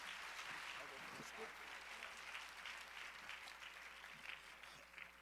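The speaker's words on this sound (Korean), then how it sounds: "환영의 박수를 쳐주시기 바랍니다" A crowd claps in sustained applause, a dense patter of many hands at moderate distance, steady throughout with slight swells.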